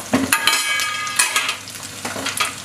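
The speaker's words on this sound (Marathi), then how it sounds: "आता ह्याच्यामध्ये आपण बऱ्यापैकी फ्राय झालाय." Crab curry ingredients frying in a pan over low heat, a steady loud sizzle with bursts of stirring scrapes close by.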